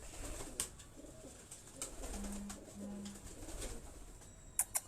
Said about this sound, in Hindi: ये दोस्तों वो सब्ज़ गले वाले कबूतर, या जिन्हें उस्ताद राजा अजीम साहब वो इन्हें प्यार से नाग कबूतर भी कहा करते थे